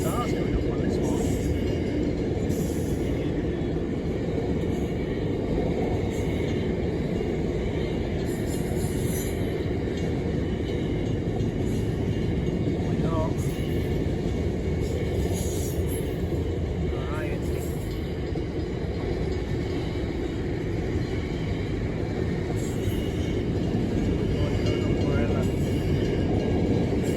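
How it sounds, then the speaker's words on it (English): A long freight train of about 119 cars rumbles past a rail crossing in Kalgoorlie, Western Australia, a steady loud roar of rolling wagons with occasional faint wheel squeals and clanks that never lets up. "It's got stuck at the rail crossing. These monster freight trains."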